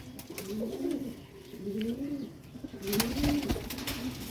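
Sialkoti grey pigeon cooing close by in repeated soft, low rolling phrases, with a few faint clicks and rustles in the background and no talking.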